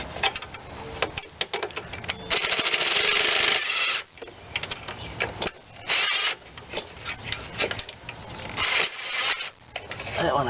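A wrench works a bolt on a 21-inch MTD Pro Honda self-propelled mower while it is being serviced. Irregular bursts of ratcheting clicks and scraping metal come up close, separated by brief pauses.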